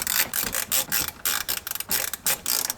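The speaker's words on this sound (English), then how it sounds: "Bolt right here in the middle, we're gonna go ahead and tighten it down." Ratchet wrench with a shallow 10 mm socket tightening a bolt during heater core replacement on a 1994–2004 Ford Mustang, a rapid series of sharp metallic clicks in quick bursts, close and loud with no talking.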